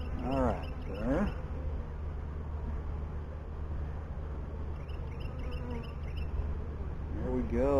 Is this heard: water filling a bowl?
no